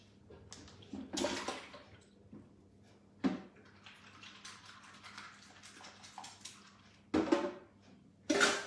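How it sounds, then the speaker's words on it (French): Syrup drains out of a can of peaches in quiet, intermittent gurgling splashes, a few louder gushes standing out against near silence between them. "Alors, on va égoutter notre boîte de pêche."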